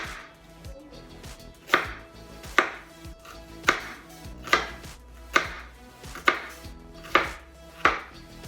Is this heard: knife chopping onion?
yes